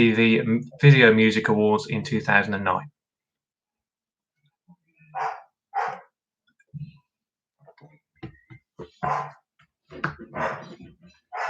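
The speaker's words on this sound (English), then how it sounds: "Again, sorry if you can hear the dog barking." A few short, sharp dog barks in the background, spaced irregularly between bursts of a person talking nearby.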